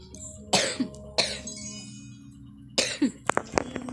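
A person coughs in three separate harsh bursts, the last one doubled, each fairly loud and close, with quiet pauses between them.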